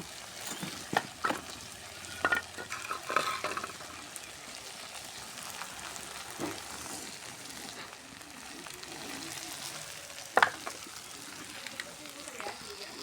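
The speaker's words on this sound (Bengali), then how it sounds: "এটা ঘুরে ঘুরে দিলে তরকারিটা সুন্দর হয় সবদিকে ভালোভাবে তেল ছাড় দেয়" Curry frying in oil in a pan, a soft continuous sizzle with occasional scraping clinks of stirring, faint and close, with a voice talking over it at times.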